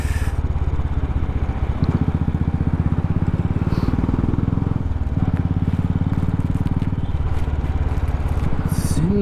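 Many motorcycles idle and rumble together in crowded office-hour city traffic in Nepal. The engines make a close, loud, continuous throbbing drone that stays steady throughout, with no talking.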